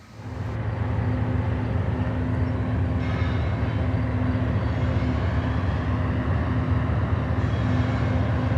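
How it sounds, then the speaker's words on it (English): A BNSF manifest freight train arriving in a yard in the Mojave Desert, with CP and BNSF GEVO locomotives working as distributed power. A loud, steady rumble of engines and rolling cars carries a sustained low drone throughout. "The action continues with CP and BNSF GEVOs acting as DPUs on a manifest arriving in the yard."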